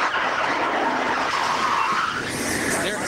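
A NASCAR stock car smashing hard into the wall, heard as a loud continuous roar of skidding tires and scraping metal that holds steady for a few seconds, close and dense without a clear single impact.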